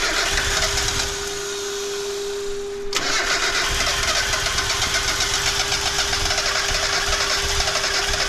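A Honda K-series engine swapped into an EG hatch catches and settles into a steady idle, with a loud, close, even mechanical drone and a sharp start transient partway through.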